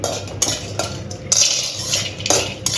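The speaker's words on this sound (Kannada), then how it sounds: "ಎಲ್ಲ ಮಿಕ್ಸಲ್ಲಿ ರೋಸ್ಟ್ ಮಾಡ್ಕೋತಾ ಇದ್ದೀವಿ" A baby food mix being stirred and roasted in a pan, with a metal spoon scraping and clinking against the pan at irregular intervals over a soft, low sizzle.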